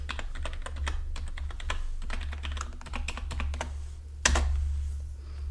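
Keys clatter on a computer keyboard as a password is typed at a login prompt, a quick irregular run of close, crisp clicks over a low background hum, ending in one sharper keystroke; no voices.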